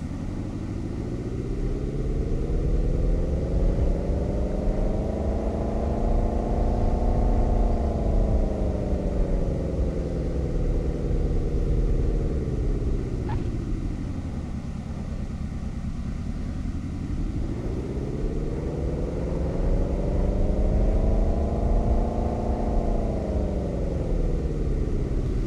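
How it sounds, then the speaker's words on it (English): A car engine in a driving simulator game, driven with a Logitech joystick, drones continuously and close, its pitch rising and falling smoothly as the revs change twice over the stretch. "now I can drive the car with the Logitech joystick"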